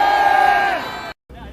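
A crowd at a Korean political rally and march roars with shouts and cheers, loud and sustained, and then cuts off briefly before the noise resumes.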